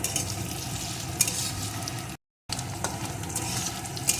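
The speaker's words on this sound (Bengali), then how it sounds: "এখন পেঁয়াজ কুচিটাও আলুর সাথে সুন্দর করে ভেজে নেব" Potatoes and chopped onion fry in a pan with a steady, soft sizzle and occasional stirring clicks, broken by a brief dropout.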